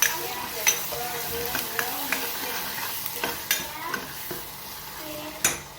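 Spices (garam masala, turmeric, coriander-cumin, red chili, salt) are stirred and mixed in a sizzling frying pan for a peanut bhajiya curry, with a soft frying hiss under repeated close scraping and tapping of a spoon against the pan.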